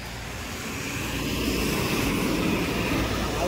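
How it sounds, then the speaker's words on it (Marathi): A drone flies overhead at Harihar fort near Nashik, a steady droning engine hum with a broad rushing whine, continuous and gradually growing slightly louder. "ड्रोन कुठे गेला आपला?"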